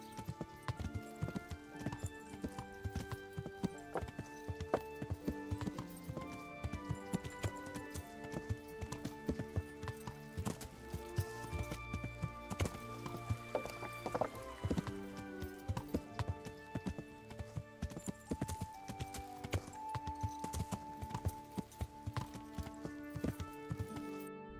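Horse hooves clip-clopping in the medieval game Kingdom Come: Deliverance, a long run of steady rhythmic hoofbeats at riding pace, heard close over sustained background music.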